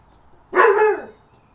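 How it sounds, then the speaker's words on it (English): A pet dog lets out a single loud, close bark with a slight whining rise and fall, set against a quiet room. "In the time it has taken for my dogs to settle down"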